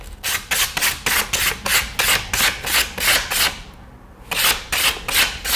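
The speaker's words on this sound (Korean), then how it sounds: "줄을 그래 사포로 살짝 할게요" Rhythmic rasping strokes of sandpaper rubbing back and forth, steady and close, with a brief pause before the scraping resumes.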